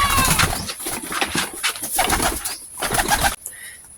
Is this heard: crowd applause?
no